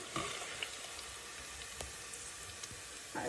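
Food frying slowly in a small amount of oil, a steady soft sizzle with faint crackles and a few light clinks, close and quiet with no talking.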